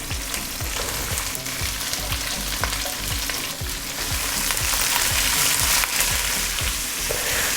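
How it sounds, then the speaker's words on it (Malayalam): Three chopped medium onions fry in hot oil, a continuous loud sizzle broken by a regular scrape of a spoon stirring through the pan, with no voices. "സവാള ഇട്ട് ഇളക്കിയിട്ട് ഞാൻ എപ്പോഴും പറഞ്ഞ പോലെ കുറച്ച് സോൾട്ടും കൂടി ഇട്ട് കൊടുക്കുക"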